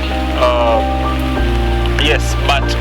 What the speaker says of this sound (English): There's a lot of rain outside.